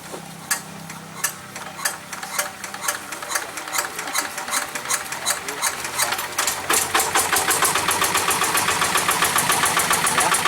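A two-wheel hand tractor's engine is started and settles into idling, steady rapid chugging that grows louder and denser after a few seconds, with faint voices in the background.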